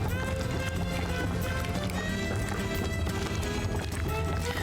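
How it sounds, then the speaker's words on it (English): Steady clip-clop of carriage hooves at a running pace in the video game The Witch and the Hundred Knight, continuous and fairly close, under a dense layer of game music and ambience. "Is that the sound of a horse and carriage?"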